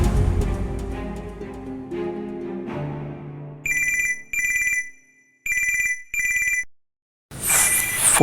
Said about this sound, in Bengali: ফোনটা একটু বার করে রিসিভ করবেন, স্পিকারে দিয়ে